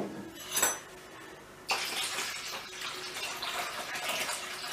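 Lemon juice water pours out of a strainer while lemonade is being made, a steady liquid rush with a short clink before it, close and fairly quiet, with no talking.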